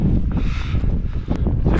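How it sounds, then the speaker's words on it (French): Wind buffets the microphone on a rocky mountain hike at Puy de Sancy in Auvergne, a loud continuous rumbling roar with gusty swells and no speech. "J'ai le vent de face en plus."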